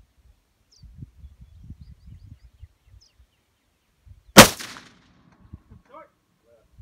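A single loud gunshot rings out close by, sharp and sudden, after a stretch of quiet shuffling, with soft voices and movement around it.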